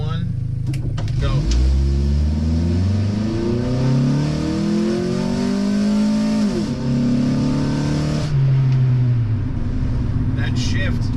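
Honda Integra launching hard from a standstill with no brake torque, engine revving loudly and rising in pitch through the gear, a quick shift, then pulling again, close up from inside the car; a voice talks over it.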